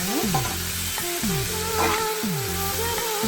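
Egg puff filling sautéing in a pan gives a continuous close sizzle, broken every half second or so by the rhythmic scrape and clatter of a stirring spoon, with no talking.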